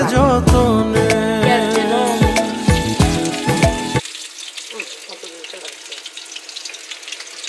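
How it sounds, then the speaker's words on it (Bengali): Onions frying in a pan for a Bogura-style egg and potato ghati, a soft, even sizzle and hiss that comes in after a stretch of loud music and continues alone at a moderate level. "পেঁয়াজটা ভালো করে ভেজে নিই"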